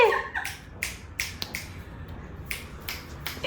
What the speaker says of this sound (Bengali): তুড়ি মারছে ছেলে